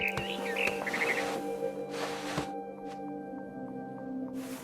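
A barn swallow in the game What Remains of Edith Finch gives a few quick, high chirps and twitters early on, fairly faint against a quiet ambient background with soft thuds and rustles.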